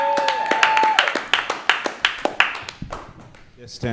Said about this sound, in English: Big round of applause for D. Martin Austin, ladies and gentlemen.